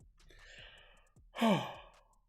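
A single person yawns, a long breathy exhale with a rising, drawn-out voiced sound in the middle, heard close and alone after a softer breath.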